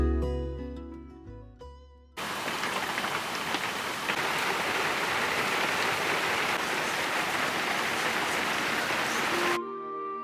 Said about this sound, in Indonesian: kondisinya itu lagi hujan.